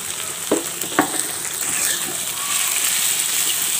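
Onion, chilli and salt paste hit hot oil with fish heads in a pan, two quick scraping stirs at the start giving way to a dense, steady sizzle that swells slightly toward the end.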